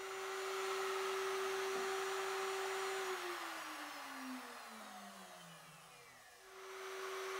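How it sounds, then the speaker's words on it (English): A multi-router cutting mortises with a 1/4-inch mortising bit for the sides of a frame, with wenge accents, gives a steady loud motor whine that drops in pitch as the bit bites into the wood, then comes back up to speed. "We start by cutting the mortises for the sides of our frame on the multi-router, using a 1/4" mortising bit."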